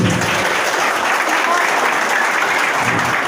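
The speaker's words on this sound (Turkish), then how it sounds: "Evet bir alkışla semazenlerimizi istiyoruz" Steady, dense crowd applause for whirling dervishes at a Sufi hymn performance, continuous and even throughout with no break.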